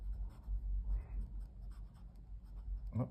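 Writing with a Lamy AL-Star special edition fountain pen: faint, close scratching strokes of the nib on paper in short repeated bursts, quiet and alone.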